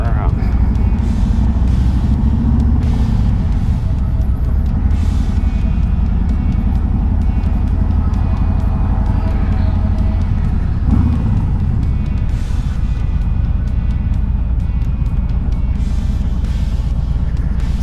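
A Harley-Davidson Road Glide 3 motorcycle being maneuvered at slow speed: a loud, steady low engine rumble runs throughout, with someone talking over it.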